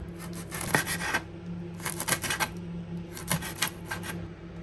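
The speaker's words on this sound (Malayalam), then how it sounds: "നമുക്കിനി ഗ്രീൻ ചില്ലിയോ അല്ലെങ്കിൽ കാന്താരിയോ കട്ട് ചെയ്തെടുക്കാം" Green chillies or bird's eye chillies being sliced with a knife, heard as three separate bursts of quick, close rasping cuts with short pauses between them and no talking.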